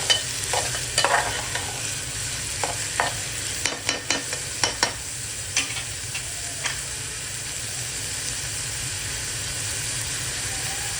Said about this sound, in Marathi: मी जे बारीक 4-5 कांदे कापले होते ते टाकते। आता आपण लाल होऊन देऊ जरा कांदा